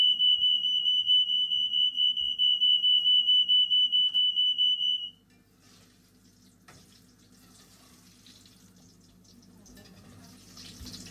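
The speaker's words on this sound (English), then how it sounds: "Oh, the fire alarm going off," A shrill, rapidly pulsing smoke alarm beeps loudly and continuously for about five seconds, then stops, leaving faint kitchen clatter and running water.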